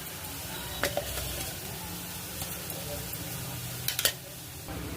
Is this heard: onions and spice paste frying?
yes